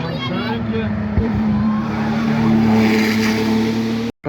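Number 42, a Martini race car, arrives at the Bettant historic hillclimb in 2022 as a steady close engine drone that holds for about four seconds, with crowd chatter underneath, before cutting off abruptly.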